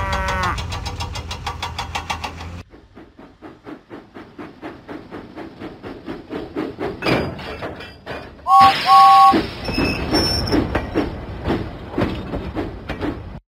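Cartoon steam engine James chuffing along in a Thomas and Friends children's game, a steady rhythmic puffing under game music and narration, with a brief whistle burst partway through.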